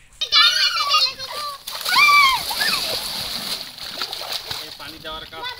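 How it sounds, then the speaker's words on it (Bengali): Water splashes and sloshes into a makeshift swimming pool while excited children talk and shout loudly over it. "এখন সুইমিং পুলে পানি দেওয়ার কাজ চলছে।"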